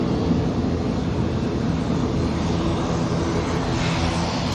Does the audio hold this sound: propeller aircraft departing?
yes